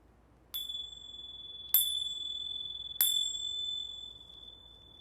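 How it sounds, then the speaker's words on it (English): A yoga teacher strikes small bells three times at an even pace during a calm candlelight yoga session. Each strike gives a bright, clear ring that fades slowly into near silence. "When I ring my little bells here."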